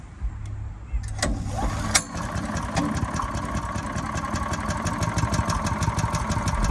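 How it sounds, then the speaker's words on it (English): A Predator 212cc gas engine on a Harbor Freight wood chipper catches and settles into a loud, fast, even idle thrum up close after a few starting pops. "So as you can tell, it is running."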